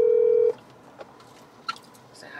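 Telephone call tones: a steady dialing tone for half a second, then a quiet line with a couple of soft beeps and faint background noise, no talking.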